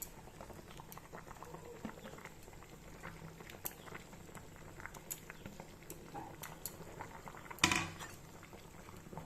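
Fish curry simmers in a pot with soft, steady bubbling and faint popping, broken near the end by one brief, louder clunk.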